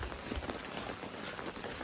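Rain falls steadily outside a thatched-roof guesthouse in Hahoe Village, a faint, even patter with no voices.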